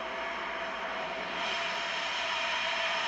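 A steady, loud roaring rush of water from the Falcon 9 launch pad deluge sound suppression system, a broad continuous wash heard from a distance that swells slightly midway, with no voices.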